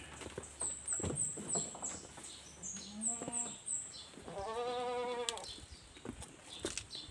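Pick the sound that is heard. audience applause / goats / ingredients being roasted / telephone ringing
goats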